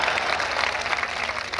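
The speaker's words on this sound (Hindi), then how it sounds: "आप ताली बजा रहे हो" An audience at a Hindi satirical comedy show claps loudly, a brief, dense burst of applause with no speech over it.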